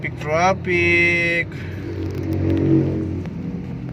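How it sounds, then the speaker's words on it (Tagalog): Cars idling and creeping through a heavy traffic jam near a church in Malolos, a steady low engine rumble with a horn-like tone early on, close and continuous, and someone talking over it. "Traffic mga idol."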